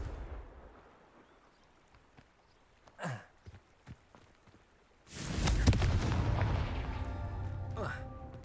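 A Confringo fire-blast spell in a Harry Potter video game erupts as a loud, sustained roaring blast that swells suddenly midway and rumbles on with crackling debris, after quieter footsteps and a brief whoosh.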